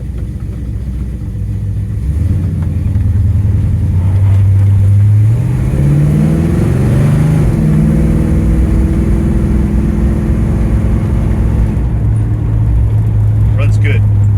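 A 1967 Pontiac GTO engine running steadily and loud, with a rise in revs partway through before settling back to a deep idle, close up and with no talking.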